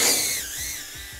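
Cinewhoop FPV drone fitted with 3-inch six-blade propellers flying nearby, a loud whirring buzz of spinning props whose pitch sweeps and wavers as throttle changes, heard alone without talk.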